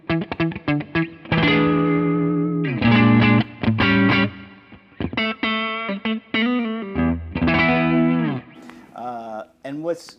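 G&L ASAT Classic electric guitar on its neck pickup through a Fender Bassbreaker 15 tube amp with a warm, round tone, played in short chords and sustained melodic notes with pauses between phrases, close and fairly loud.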